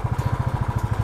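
Motorcycle engine on a long highway ride toward Rishikesh, close and steady with a rapid even pulsing throb, no voices.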